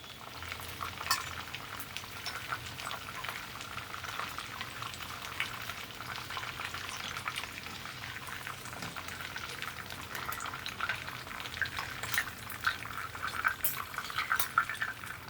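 Pieces of chicken frying in hot oil for chilli chicken, a steady, close sizzle and bubbling crackle that continues unbroken, with occasional faint clinks.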